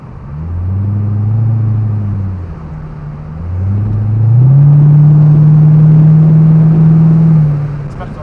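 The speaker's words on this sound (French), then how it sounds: "là, on accélère, on prend des vitesses" A Chevrolet Corvette C6 with a 6.0 V8, driven with the roof off, accelerates through the gears. Its loud, deep engine rumble swells in two pulls, then settles into a strong, steady drone close by.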